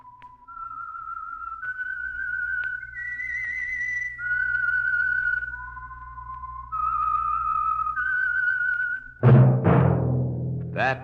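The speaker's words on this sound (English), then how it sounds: "That whistle is your signal for the Signal Oil Program, The Whistler." A person whistles the theme of The Whistler radio mystery program, a clear, sustained melody of held notes stepping up and down, performed solo, then cut off by a sudden loud burst of orchestral music.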